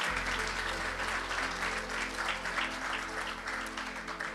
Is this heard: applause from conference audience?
yes